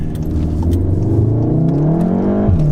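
A Volkswagen Golf R with a Stage 2 tune revs up close and loud out of a junction, pitch climbing steadily as it accelerates away, then briefly dipping as it shifts.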